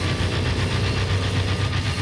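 Rough, rumbling car engine from the Mad Max video game, a steady low throbbing idle with knocking pulses, loud and continuous with no talk.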